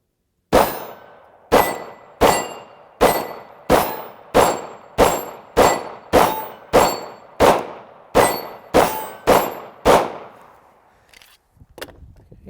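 A Beretta M9 pistol fires about fifteen evenly paced shots, each a sharp report followed by the ringing clang of a steel target struck at roughly 12 to 15 yards, then the fire stops.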